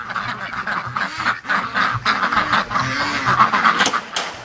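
Rouen ducks quack loudly and continuously at close range, with overlapping nasal calls from several birds forming a busy, steady chorus.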